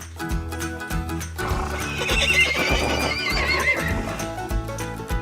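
A Losino horse whinnies loudly over rhythmic hoof clip-clops that run throughout, the neigh rising and wavering in the middle of the passage.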